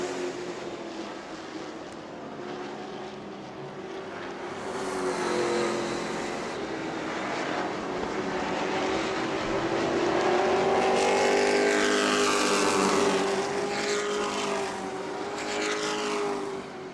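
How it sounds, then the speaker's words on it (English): Stock cars racing on the New Smyrna track, a dense roar of several engines heard from trackside, swelling as cars sweep past and fading slightly between passes, with no clear voices. "Dylan LeBeau dives down on the inside of Fitzgerald, right up against that quarter panel as they go into the corners"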